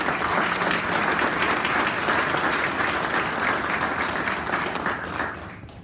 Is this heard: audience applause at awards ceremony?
yes